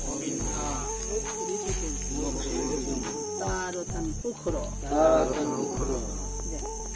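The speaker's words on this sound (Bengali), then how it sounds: "ঝিঝি পোকারা ডাকছে ঝিঝি করে।" Crickets chirp steadily on a misty, still night near a bamboo grove, a continuous high trill running from start to finish beneath a solemn recited voice.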